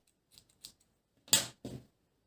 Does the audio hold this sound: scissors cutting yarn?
yes